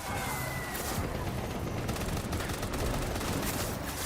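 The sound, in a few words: gunfire from enemies shooting, video game Death Stranding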